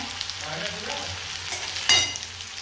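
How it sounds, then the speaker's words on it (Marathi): Onion sautés in a pan, with a continuous soft sizzle and light scraping of stirring, close and moderately loud, with one brief sharper clatter near the end. "कांदा लाल परतून झाला"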